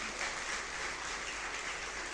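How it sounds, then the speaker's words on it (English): Sustained applause from a reunion audience, a steady even wash of clapping throughout with no voices standing out. "Give him a big round of applause"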